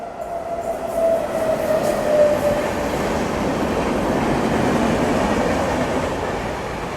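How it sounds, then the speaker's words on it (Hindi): A train passing alongside a moving Indian express on the Delhi–Prayagraj line, heard as a steady loud rumble and rush of wheels with a brief squeal early on, no talk. "बाकी इस तरह से भी कोई ट्रेन क्रॉस हो रही है अपने को"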